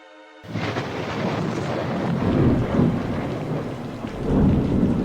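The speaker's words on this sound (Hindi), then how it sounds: "अचानक एक तेज आंधी आती है और गांव में तबाही मचा देती है।" A fierce storm strikes a village with loud, steady heavy rain and deep thunder that rumbles and swells twice. It sounds close and fills the scene without any voices.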